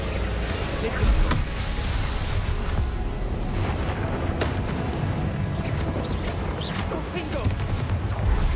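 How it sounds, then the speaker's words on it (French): Dense, rumbling barrage of magical blasts and crashes from explosion spells in the Hogwarts Legacy video game, continuous and loud combat chaos with no clear pauses. "Explosion"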